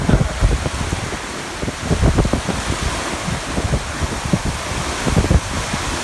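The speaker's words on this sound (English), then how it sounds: "Cold rain." Cold rain storm with gusting wind sweeping across a big pasture, a steady hiss of rain and wind rumble buffeting the microphone throughout, with no talking.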